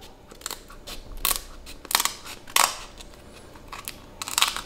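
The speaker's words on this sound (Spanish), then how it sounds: "lo más fácil es con unas tijeras de cocina, hacemos aquí en la parte de abajo un corte en todo el centro" Kitchen scissors snip through the shell underside of a grilled king crab leg, producing a series of sharp, crisp crunching cuts at irregular intervals, close and fairly quiet between the cracks.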